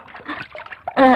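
Water splashes in one short loud burst as clothes are washed by hand, following a brief stretch of quieter mixed sound.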